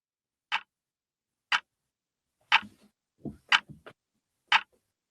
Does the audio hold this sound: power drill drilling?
no